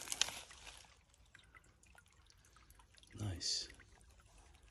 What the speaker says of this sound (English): Here's the stream. Oh, that's nice, isn't it? Little stream.